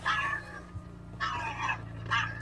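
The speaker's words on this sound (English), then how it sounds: "Apparently this dog does not like PetSmart." A dog whimpers and yips in short, strained bursts at a PetSmart store, three whiny cries spaced out over a low steady indoor hum.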